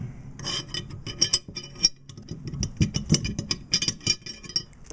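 Metal parts of a Ruger Mini 14 rifle rub, click and scrape as its bolt is removed, a close series of small irregular clicks and slides over a low background hum.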